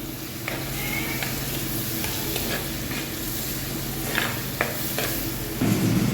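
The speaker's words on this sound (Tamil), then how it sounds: "இஞ்சி பூண்டு பச்சை மிளகா சேர்த்துருக்காங்க நல்ல ஒரு கிண்டு கிண்டியிருக்காங்க" Ginger, garlic and green chili frying in a pan for a fish curry, with a steady sizzle broken by several sharp spoon scrapes and clacks as the mixture is stirred, close and continuous with no talking.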